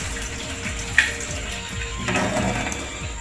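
Voice-activated household water tap running, a steady close hiss of flowing water with a brief splash or knock near the start, no talking.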